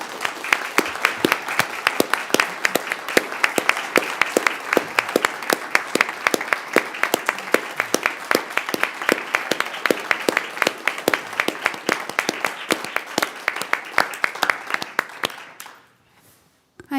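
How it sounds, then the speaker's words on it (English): A city council meeting audience gives a sustained round of clapping for applicants, with dense, even, close hand claps going for many seconds before tapering off and stopping near the end. "would it be appropriate to give our applicants a round of applause?"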